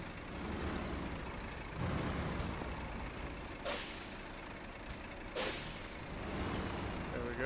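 A heavy truck in the Snow Runner video game rumbles steadily, with a few sharp hissing air brake releases cutting through the low engine drone, close and moderately loud.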